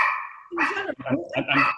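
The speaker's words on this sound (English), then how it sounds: "there's my dog" A dog barks several times indoors, loud and close, in short sharp bursts that follow a brief whine, breaking in during a remote business interview.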